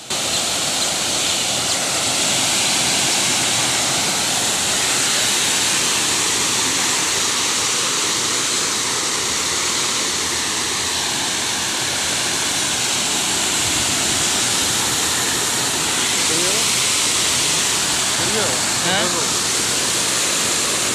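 Water rushes from the KRS dam at Brindavan Gardens on the Kaveri near Mysore as a loud, steady roar that stays broadband for the whole stretch, with faint voices barely showing beneath it.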